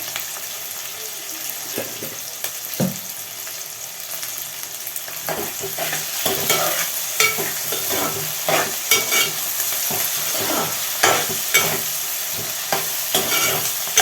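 Okra sizzles steadily in a hot pan while a spoon or spatula stirs and scrapes through it, producing irregular clicks and scrapes that grow busier and louder in the second half.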